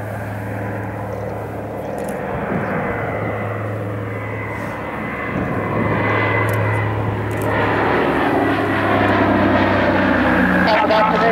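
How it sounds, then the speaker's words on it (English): Steady droning roar of a PBY-5A Catalina flying boat's propeller engines at Abingdon, loud and continuous, with a voice speaking over it from the flight deck through a crackly radio-like channel. "From the flight deck of Catalina, the aircraft you can see in front of you."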